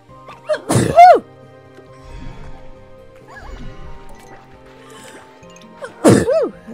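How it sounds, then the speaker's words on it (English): An in-game sneeze effect from Slime Rancher 2 bursts out loudly twice, once near the start and again near the end, with quieter game sounds and faint murmurs between. "I'm gonna sneeze."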